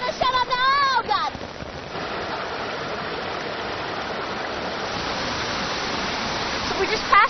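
A gorge waterfall roars as a steady, loud broadband wash for the whole stretch, with a voice speaking briefly near the start over the rushing water.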